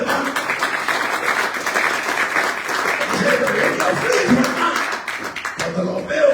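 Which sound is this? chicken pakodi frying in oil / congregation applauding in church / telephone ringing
congregation applauding in church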